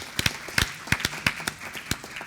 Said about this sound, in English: give them one final round of applause for their excellent presentations